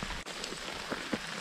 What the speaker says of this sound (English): The old rain has arrived.